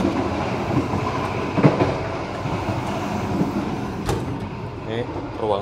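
Argo Bromo Anggrek express train rumbling along the rails, heard from inside the carriage, a steady clattering roll with occasional sharper knocks while people talk over it.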